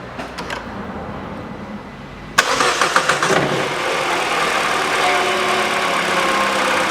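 After a quiet stretch with a few clicks, a Peugeot 408 1.6 engine with a newly replaced drive belt cranks briefly with sharp bursts and catches. It then settles into a steady, even idle with no knocking.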